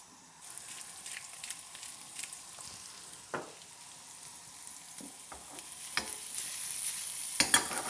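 Potato slices frying in a pan, a steady close sizzle with occasional scraping stirs and pops, growing slightly louder toward the end, with no talking.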